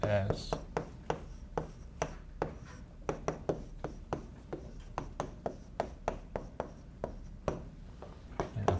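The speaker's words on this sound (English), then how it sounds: "let me write down" Rapid scratchy strokes of a pen or chalk writing during a mathematics lecture on the Lyapunov theorem, with tapping and rubbing sounds repeating steadily throughout at close range and no speech.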